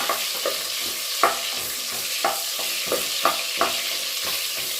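Two sliced onions fry in hot ghee with a bright, steady sizzle, while a spoon scrapes and stirs the pan in a regular rhythm of roughly one stroke per second, close up and with no speech.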